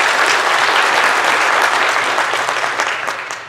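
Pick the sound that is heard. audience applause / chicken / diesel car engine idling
audience applause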